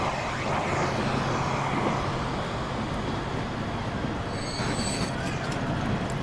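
A train running in the Transport Fever video game, heard as a steady broadband rumble of rolling rail noise with faint high squeals, continuous and fairly close throughout.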